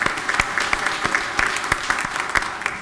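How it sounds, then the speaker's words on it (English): Congregation clapping in a church sanctuary, a light, scattered patter of hand claps with distinct individual slaps, moderately close and steady. "we'll clap for that."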